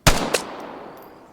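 Two sharp M21 rifle shots in the game Vigor, close and loud, fired a fraction of a second apart, each followed by a long fading echoing tail.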